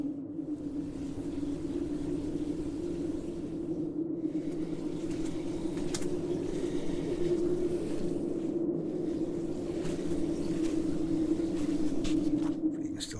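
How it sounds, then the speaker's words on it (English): A neighbour's garden water feature runs as a steady, unbroken trickle and low hum, heard at night from a tent pitched in a garden, moderately loud and constant throughout with no talking. "they've got a water feature. It sounds very nice, to be honest."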